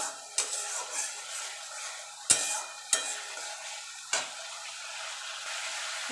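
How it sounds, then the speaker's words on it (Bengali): Spices sautéing in oil in a pan give a faint, steady sizzle, broken by a few sharp clicks and knocks of a utensil against the pan. "এবার মশলা থেকে তেল ছেড়ে আসা পর্যন্ত একটুখানি কষিয়ে নেব"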